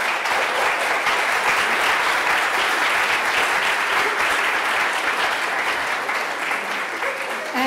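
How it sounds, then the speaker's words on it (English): Sustained applause from a conference audience at an agile software summit, a dense steady roar of clapping hands that holds loud and even for the whole stretch with no voices breaking through. "A big round of applause for John."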